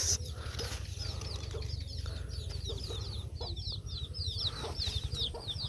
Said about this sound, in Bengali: এখানে এটা হচ্ছে মুরগির খোপ